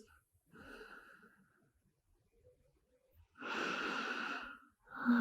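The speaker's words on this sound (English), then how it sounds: "Take some deep breaths here in child's pose." Slow, deep breaths are taken in yoga child's pose, heard as two soft, drawn-out exhalations close by, separated by a quiet pause, with another breath starting at the end.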